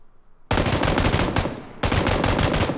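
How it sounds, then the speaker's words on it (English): A machine gun fires in the battle royale game PUBG, two loud, close bursts of rapid automatic fire, the first about a second long and the second following after a brief pause. "I've got my massive machine gun out."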